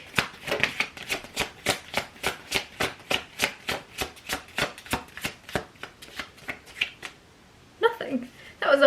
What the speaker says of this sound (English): That was a whole shuffle.